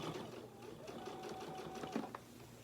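A sewing machine quilts along the seam of a quilt sandwich, a steady close mechanical whir with a fast needle chatter, fairly quiet and running continuously.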